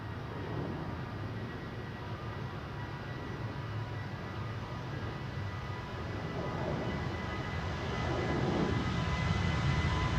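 Air Baltic airliner at Amsterdam Schiphol airport in windy weather, a broad jet roar that grows louder toward the end as the aircraft draws nearer.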